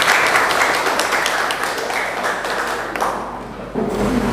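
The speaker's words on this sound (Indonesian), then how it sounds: "Tepuk tangan buat Mbak Majida." A classroom full of students claps steadily for a few seconds, dense and even applause that thins slightly toward the end.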